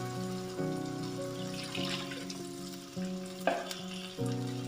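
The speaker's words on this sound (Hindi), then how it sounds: "अब हम इसमें ½ कप पानी ऐड कर देंगे।" Chicken and tinda (round gourd) masala frying in a pan, with water poured in; steady loud sizzling and bubbling throughout, with a few clinks and stirring scrapes, no talk.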